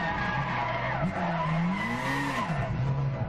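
A car drifts in Gran Turismo 6, tires squealing in a sustained, wavering screech over a droning engine, close and continuous throughout.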